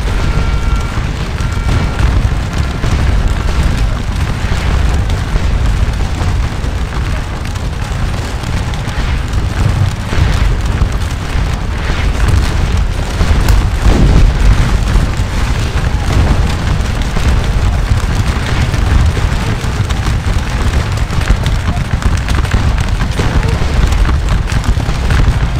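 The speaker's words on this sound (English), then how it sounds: "A lot of artillery fire coming in from our side to assist" Artillery fire in the Napoleonic battle game Scourge of War: Waterloo, a loud, continuous rumble of cannon booms blending into a dense battlefield roar, with one sharper blast standing out midway.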